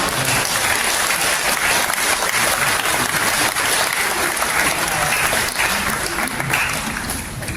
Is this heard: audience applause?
yes